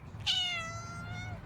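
A cat gives a single short meow, fairly faint, with a quick rise and a trailing tail in a quiet room.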